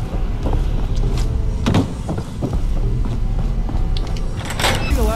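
A back door opening in the Fallout 4 video game, heard as a dense scrape and clunk of a sliding door among other game noises, with a busy, steady sound bed throughout.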